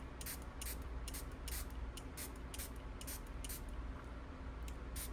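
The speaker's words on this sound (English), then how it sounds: "And I'm gonna spray those." A handheld spray bottle misting water onto new Gansai Tambi watercolor paints, a quick run of sharp hissing spritzes repeating in an uneven rhythm, close and fairly loud over a low background hum.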